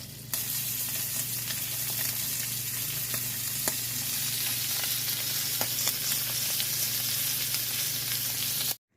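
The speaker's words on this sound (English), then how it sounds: "throw him right in the pan. I'm gonna let him cook up on both sides" A freshly caught fish fries in a pan with a continuous close hiss and sizzle. Faint scattered pops and a low steady hum sit underneath, with no voices, before the sound cuts off abruptly at the end.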